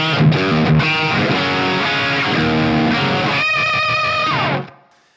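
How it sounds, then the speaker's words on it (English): Electric guitar played through the BT PT50D driven preset, heavily saturated and distorted, with a busy run of notes and chords that rings loud and steady, then cuts off near the end. "fourth driven preset, which is the BT PT50D"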